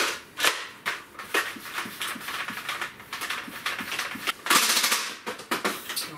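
A red Nerf Mag Strike blaster being test-fired: a rapid series of sharp snapping clicks and pops, close and fairly loud, with pumping and handling rattles between shots, no talking.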